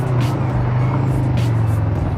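A used Kawasaki Ninja 500R motorcycle engine drones steadily while riding uphill, a continuous low hum with wind noise, close and fairly loud throughout.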